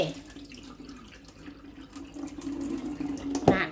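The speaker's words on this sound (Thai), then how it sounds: "เทน้ำทิ้ง" Rinse water is poured off rice during cooking, a close, continuous splashing trickle into a sink that swells slightly toward the end, with no voices.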